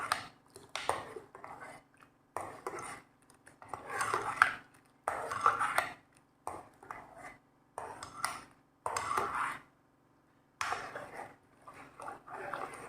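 A spoon scrapes and clinks against a bowl while stirring gelatin into milk, in repeated bursts of a second or two separated by short pauses, close and clear with no talking.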